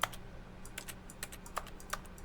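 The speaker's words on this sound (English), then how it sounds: "Why does my clicking make a clicky sound?" Keyboard clicks while playing The Stanley Parable Ultra Deluxe: a handful of quiet, isolated keypresses spaced irregularly over a faint background hum.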